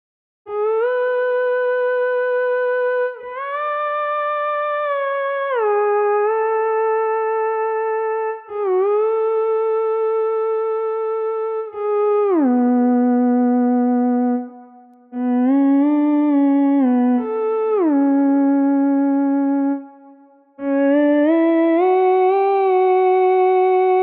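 A single sustained synth tone from LABS Electronic Antique that steps and glides between pitches every few seconds, with brief gaps between held notes.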